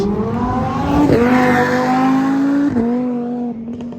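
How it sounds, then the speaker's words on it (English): A Lamborghini Huracan drives past up close and loud, its engine tone rising with a gear shift before another shift and a fading drive-by, heard alone without talk. "that Huracan that just passed by"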